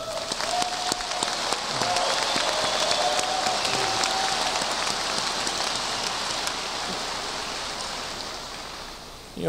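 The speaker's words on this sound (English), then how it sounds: "So please, let's give them a round of applause." A large high school graduation audience applauds in a steady, rain-like roar of clapping, with a few faint voices and whistles mixed in, fading slightly near the end.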